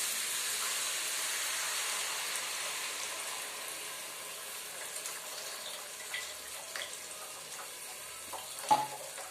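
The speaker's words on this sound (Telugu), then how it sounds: "ఇంకా పులుసు పోసుకుంటున్నా, చింతపులుసు" Tamarind juice poured into a hot pan of cooking food makes a steady, broad sizzling hiss that slowly fades as it settles, with a few small clicks near the end.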